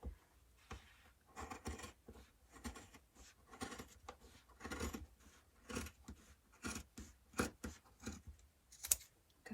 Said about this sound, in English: good thing my fabric scissors are still sharp